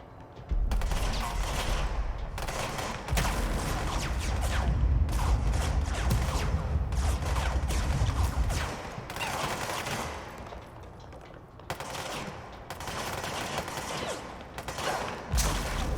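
Bursts of gunfire from enemy soldiers in the video game Control, with heavy, dense volleys through most of the stretch and short gaps between them, loud and close, with no talking over them.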